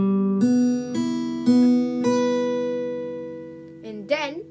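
Clean guitar picks single notes from a song's intro, four plucked notes ringing and fading one after another, then a short burst of talk at the end.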